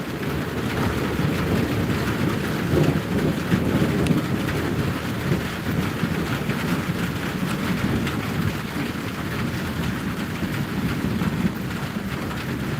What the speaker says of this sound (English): And that tells you how bad it's raining.